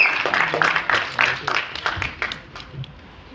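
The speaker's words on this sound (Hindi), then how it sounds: "जोरदार तालियां हो जाएगी" A crowd at a film trailer launch event claps in a brief burst of applause, loud at first and then thinning out as the clapping tapers off.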